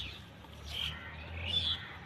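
Brief high chirps from birds and crows call out twice over a quiet, low background hum.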